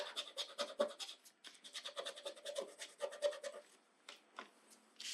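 A brush scrubs across a craft surface while painting a festive sheep, giving a steady run of close, dry scratchy strokes for most of the stretch, then a few separate strokes after a short pause.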